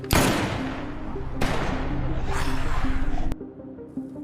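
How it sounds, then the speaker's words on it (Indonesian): Gunshots ring out in a zombie film scene inside a building overrun by an outbreak, three loud sharp blasts spaced about a second apart, each trailing into a noisy echo before cutting off. "Suara tembakan barusan membuat para zombie mulai berdatangan ke tempatnya, yang mana Jono kemudian merasa bahwa tidak"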